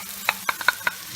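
Chicken is stirred with oyster sauce and chicken stock in a hot pan, giving four or five quick scraping stirs over a faint sizzle.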